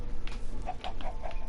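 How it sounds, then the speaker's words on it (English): Minecraft chickens cluck in a quick series of short, light, bright notes repeating over a low steady background hum, with no talking. "And these are my chickens."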